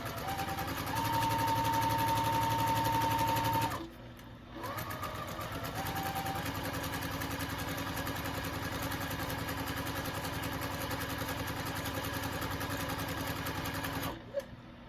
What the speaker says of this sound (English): you're sewing this circle where the pocket is so that we can put our elastic in there